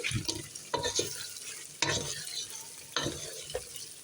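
Fried potatoes crackle and sizzle in hot oil in a pot for basmati kacchi biryani, broken by several loud scraping stirs at uneven intervals, with no talking.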